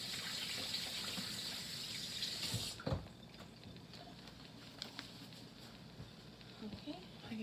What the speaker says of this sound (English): I'm gonna give my hands a wash as well